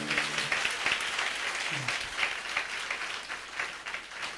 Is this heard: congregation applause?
yes